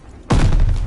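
A single loud gunshot blast from a video game battle goes off abruptly and hangs with a booming, sustained roar, close and forceful with no talk over it.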